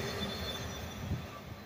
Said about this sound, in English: There's the Amtrak.